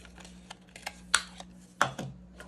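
A corner rounder punch clips the corners of a handmade paper winter solstice journal, giving a few sharp, close snaps spaced irregularly among softer handling taps, quiet and without talk.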